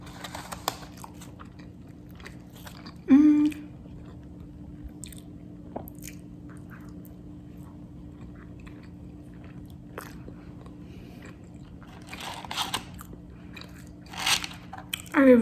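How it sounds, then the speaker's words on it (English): Chili cheese fries from a pool hall being chewed close to the mic, with soft wet crunching and squishy bites repeating through quiet pauses and a few louder bursts. "it's my first time having the chili cheese fries"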